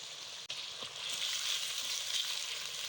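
Green chili paste frying in a pan for white chicken karahi, a steady soft hiss of sizzling oil that swells slightly after a brief stir, fairly quiet and without voices.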